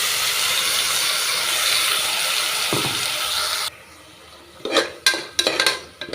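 Masala paste of ground spices hissing loudly in hot oil in a pan, a steady broad sizzle that cuts off abruptly, followed by a few sharp scraping stirs of a spoon against the pan.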